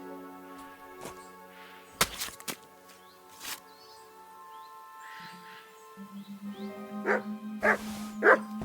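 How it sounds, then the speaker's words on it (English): A dog barks in the medieval role-playing video game Kingdom Come Deliverance II, a few sharp yips early and then a louder run of barks at the end over steady game music. "Good dog, Max"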